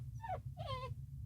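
A dog whimpers in two short, high, wavering cries close by, each sliding downward in pitch, over a steady low hum in the background.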